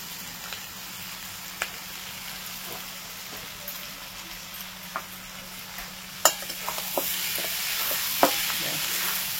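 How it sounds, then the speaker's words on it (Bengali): Chicken keema mixture frying in a pan, a low steady sizzle broken by occasional spoon scrapes and taps that grow busier toward the end. "এবার এটার সাথে একসাথে ভেজে নেব।"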